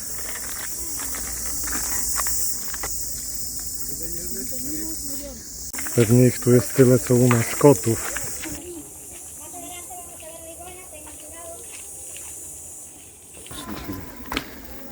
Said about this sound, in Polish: Wszędzie słychać cykady.